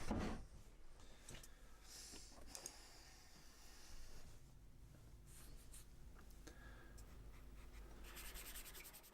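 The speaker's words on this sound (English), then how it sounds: "I'm just rubbing it down. This is called oiling out the surface." A cloth or brush rubs walnut alkyd medium onto a painted portrait surface to oil it out, faint soft scrubbing and rubbing strokes in an irregular rhythm, close and quiet.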